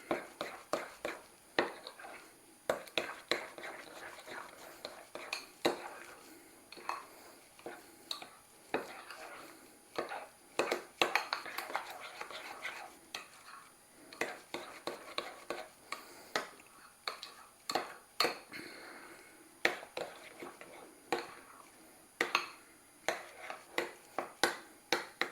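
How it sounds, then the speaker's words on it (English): Dry soup mix ingredients being stirred together in a bowl, giving a steady run of light clicks, taps and scraping ticks from a utensil against the bowl, close and moderately quiet, with no talking. "And we're just going to start mixing this together"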